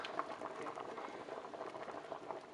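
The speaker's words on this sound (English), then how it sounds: "we've been boiling about 25 minutes." Potatoes boiling in a pot of water for homemade mashed potatoes, a steady, close bubbling and popping that carries on evenly throughout with no talking.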